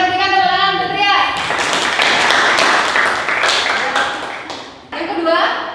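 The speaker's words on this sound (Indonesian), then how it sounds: "Kita berikan tepuk tangan untuk Trias." A classroom of children bursts into brisk, loud applause that swells and then tapers off, preceded by a teacher's voice.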